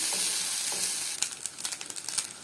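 Freekeh stir-fried in a pan, a close steady sizzle with light scraping and stirring bursts as the grains are tossed, no voices.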